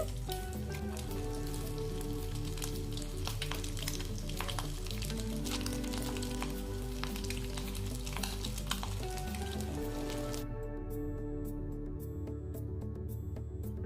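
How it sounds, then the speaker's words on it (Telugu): Egg vadas made from leftover rice deep frying in hot oil, a steady dense sizzle and bubbling that runs unbroken and fairly loud throughout, with no voices. "అందుకే నేను ఇక్కడ వీటిని డీప్ ఫ్రై చేసుకుంటున్నాను"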